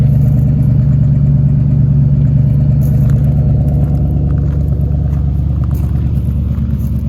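A 1967 Ford Mustang V8 convertible idles loud and close, a deep throbbing rumble with a steady lumpy beat that holds throughout.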